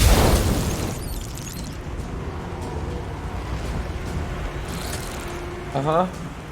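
A fire spell explodes and burns two worm creatures in the Divinity: Original Sin II game, opening with a loud blast that decays into a low burning rumble, and a brief chirping effect follows near the end.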